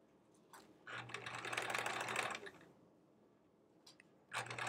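Sewing machine stitching quilt fabric selvages together, a faint start-stop whirring: a short burst, a longer run of rapid stitching for over a second, a pause, then another brief run starting, quiet and close with no talk.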